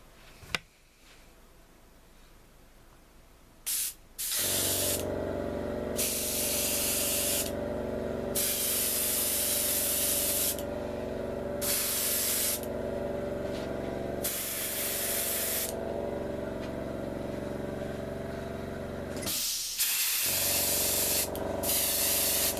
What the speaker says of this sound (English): I'm now going to spray the back of the missile.